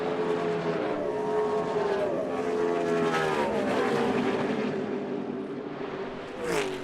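NASCAR stock cars race at Darlington in the Toyota 500, a dense roar of several engines with rising and falling pitch as cars sweep past, loud and continuous, then a brief swell near the end.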